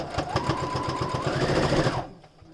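A sewing machine stitches a fabric face mask, running in a fast, even rhythmic chatter for about two seconds before stopping, with a low whir underneath.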